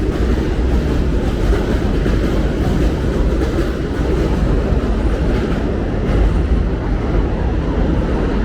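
A third-rail train in Bensonhurst, Brooklyn, rumbles steadily along the rails, a loud continuous low roar with wind buffeting the microphone throughout.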